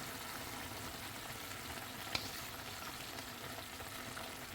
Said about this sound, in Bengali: ধনে পাতা দিয়ে একটু লাড়িয়ে নিলাম